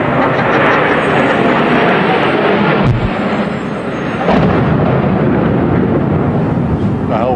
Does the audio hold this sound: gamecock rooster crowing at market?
no